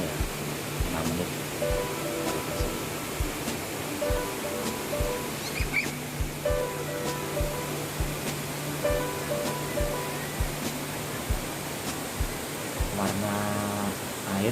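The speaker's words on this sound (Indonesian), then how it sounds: "Air terjunnya Lirip ini sekitar tingginya 25 meter." The Ngirip waterfall in Tuban, about 25 metres high, gives a constant rushing hiss of falling water, with scattered clicks and faint tonal sounds over it.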